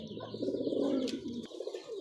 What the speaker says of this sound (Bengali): রেড চেকার কবুতর